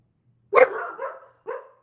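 A pet dog indoors gives one sharp bark that trails into a short yelp, followed by a second, shorter bark, close and fairly loud against a quiet room.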